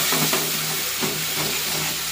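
A paste of tomato, green chilli, salt and turmeric sautés in a pan, giving a steady, close frying hiss with soft stirring sounds and no talk.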